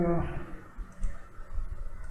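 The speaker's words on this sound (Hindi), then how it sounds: "right click" A computer mouse right-click sounds as a few soft, short clicks over a low room hum.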